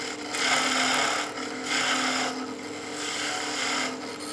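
A skew chisel's long point cuts a bead on spinning wood on a lathe, giving a steady raspy scraping hiss that swells and fades in a few close passes, alone without talk.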